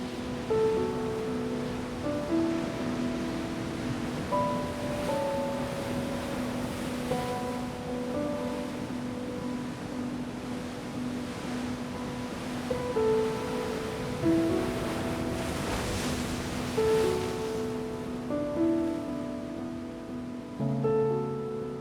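Ocean surf washes on a favourite beach in New Zealand as a soft, continuous roar under gentle melodic music, with some wind noise mixed in.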